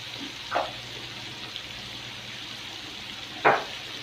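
Cumin, black pepper and salt are stirred in a hot pan, giving a steady low sizzle with two brief scraping stirs, close and alone without talk.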